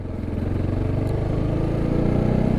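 Motorcycle being ridden, its engine putting out a close, steady chugging beat that builds slightly in loudness over a couple of seconds, with no talk over it.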